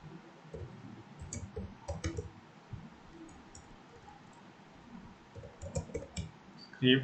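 Fingers type on a computer keyboard, quiet and close, in uneven bursts of clicking keys with brief pauses, while someone talks softly between keystrokes.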